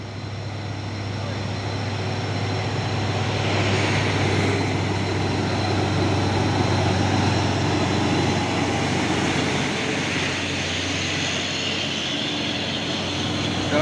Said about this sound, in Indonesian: ada satu nih truk trailer Fuso membawa paku